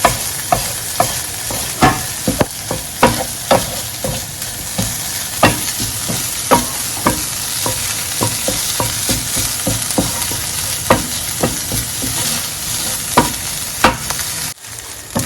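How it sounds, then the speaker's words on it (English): Corned beef sautéing in a pan for smoky jollof rice, with a continuous loud sizzle and frequent rhythmic scrapes and taps of a spatula stirring the meat. "Our corned beef is well sauteed, it's perfect."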